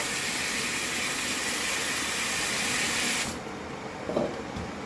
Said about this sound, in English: Let's rinse it off real quick.